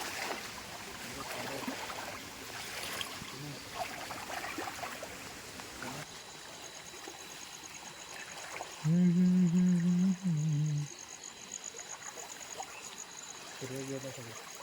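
Rain-swollen stream in the Konkan countryside rushing steadily, a continuous watery hiss and trickle heard at moderate level, interrupted by a few loud, close bursts of someone speaking.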